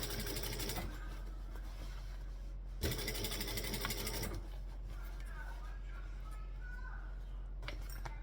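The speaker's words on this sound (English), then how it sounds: "we basically want to pull all this back to top stitch around the edge" Sewing machine running steadily while top stitching around the edge of a piece, with bursts of faster stitching between pauses and faint background noise throughout.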